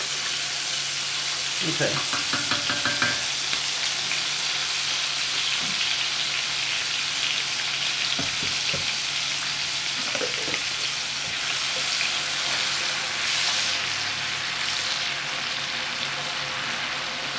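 Garlic sautés in butter in a pan for lemon butter garlic shrimp, giving a steady, moderate sizzle throughout with a few brief clinks and scrapes of stirring and a short spoken word.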